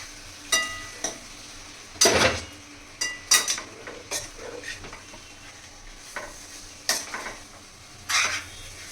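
Andhra-style fish curry with masala is stirred in a pan, giving a series of scraping, clinking spoon strokes at an uneven rhythm over a soft, steady sizzle, close and fairly loud.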